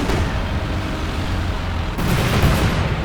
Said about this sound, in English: Fragmentation bombing run right around here.